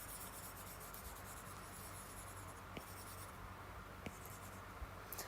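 Stylus strokes scratch quietly across a textured plastic screen cover on an iPad, a soft, papery rubbing with a few light taps, close and faint.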